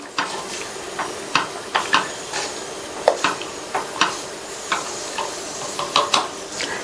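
Green gram porridge with jaggery being stirred in a pot, a spoon giving a steady series of soft clicking scrapes against the pot over a faint simmering hiss, with no voices.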